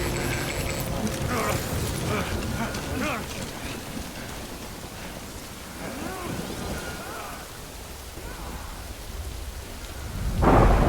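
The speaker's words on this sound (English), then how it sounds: "Good thing it was raining." Rain and rolling thunder from a Death Stranding storm, with steady downpour throughout and a deep rumble swelling loudly at the end, alone with no talk.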